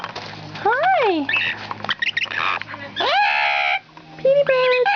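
A pet bird squawks and screeches loudly up close in harsh, rising calls and chattering bursts, mixed with a person's voice talking nearby.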